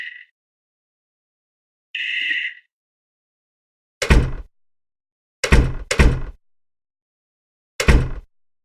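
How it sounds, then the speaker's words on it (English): Four heavy knocks on a door in a video game, close and loud, arriving as a single thud, then a quick pair, then one more after a pause, with a brief tonal game sound earlier. "You hear knocking in the distance of someone knocking on your door."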